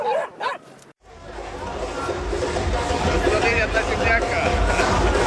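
Several dogs bark and yip close by while chasing travellers on a rural road in Romania, the barking dense and continuous over a noisy moving background with some babble.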